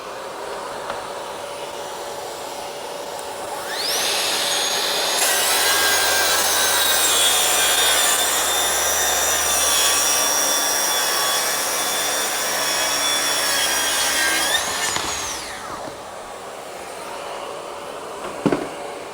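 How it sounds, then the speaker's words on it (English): A track saw cuts wood along a guide rail fitted with an MK2 rail square, a loud, steady high-pitched whine with a cutting rasp that spins up, holds for about eleven seconds and winds down, alone without talk. "I'm now going to do a cut."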